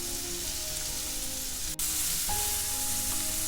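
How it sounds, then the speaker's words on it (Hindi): A steady, even sizzle of spices and finely chopped tomatoes frying in a pan, continuous and moderately loud, with a brief knock partway through; no talking. "जैसे ही मसाले हल्के से फ्राई हो जाए वैसे ही मैं 2 बारीक चॉप किए हुए टमाटर ऐड कर दूंगी"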